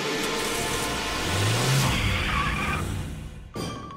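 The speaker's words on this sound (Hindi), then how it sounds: "मैं गाड़ी निकालता हूँ।" A cartoon car starts up and drives off, its engine revving and rising for a few seconds before cutting out abruptly, loud and close with no talking.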